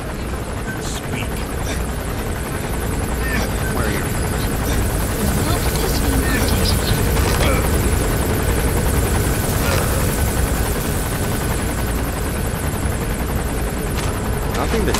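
A helicopter in Metal Gear Solid V whirs with a steady rotor drone that fills the whole stretch, loud and close, while game voices talk faintly underneath.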